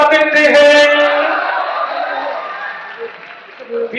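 Audience clapping at a Hindi poetry gathering (kavi sammelan) at a Holi fair, a loud burst at the start that trails off, with a voice speaking over it.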